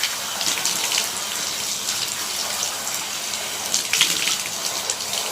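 Tap water runs steadily as a dog is wetted down during a bath at home, a continuous hissing splash with brief louder gushes.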